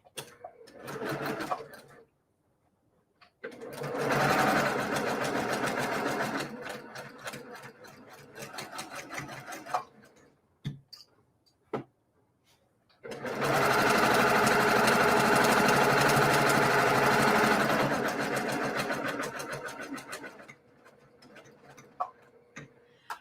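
A sewing machine stitches a kaleidoscope quilt block in two long steady runs of rapid, even mechanical chatter, close by, separated by quiet pauses and a few short taps.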